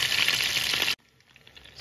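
Chicken skin pan-frying in oil crackles loudly and steadily for about a second, then drops abruptly to a faint, quieter sizzle.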